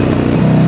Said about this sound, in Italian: suona come una moto americana, sembra un Harley